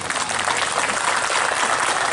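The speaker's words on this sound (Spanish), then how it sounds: "Un aplauso, por favor, al sonido." An audience applauds the sound crew at an outdoor anniversary concert in Dolores, a dense, continuous roar of clapping that holds loud and even throughout with no voices on top.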